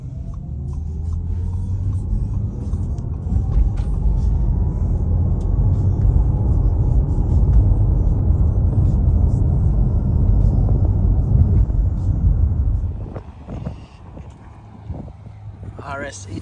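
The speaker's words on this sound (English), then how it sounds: "Here's another acceleration pull in the e-tron GT," Audi e-tron GT electric car accelerating hard with the windows up, heard from inside as a strong steady low rumble that builds and holds, then eases off near the end.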